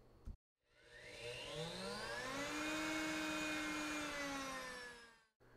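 A Blendtec Designer 725 blender runs at its highest speed, a loud whirring roar whose pitch climbs after starting, holds steady, then cuts off abruptly.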